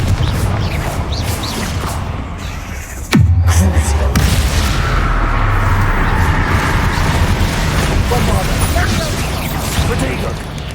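A blasting spell explosion in the Hogwarts Legacy video game, a sharp loud burst with a sweeping impact, followed by lingering rumble and debris under ongoing game voices.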